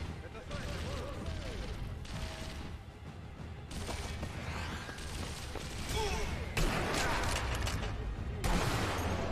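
Gunfire in the Sniper Elite V2 video game: sustained volleys of shots and crashes in loud overlapping bursts, building toward the end, with a player speaking over it.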